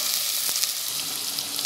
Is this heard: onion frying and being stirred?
yes